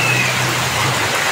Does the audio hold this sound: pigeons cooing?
no